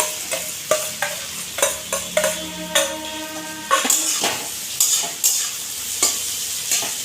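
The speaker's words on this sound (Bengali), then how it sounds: "এইগুলো সব ভালো করে ভেজে নেব" Tomatoes and boiled potatoes fry in a pan while a metal spoon stirs and clinks against it in a regular rhythm over a soft sizzle, close by with no talk.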